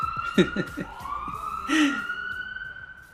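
An ambulance siren wails in a long rising and falling tone, moderately distant, with voices talking briefly over it.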